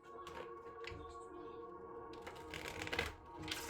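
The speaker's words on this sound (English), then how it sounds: "Let me shuffle these cards." Tarot cards being shuffled by hand, quiet riffling and sliding bursts in short repeated runs, close and faint.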